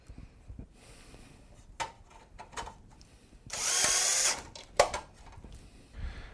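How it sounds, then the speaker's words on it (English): Screws driven back into the plate of a damper actuator with a power drill, one short buzzing burst of the drill among scattered clicks and handling taps, no talking. "And just go ahead and reinsert our screws."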